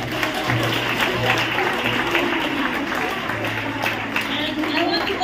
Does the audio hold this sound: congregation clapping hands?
yes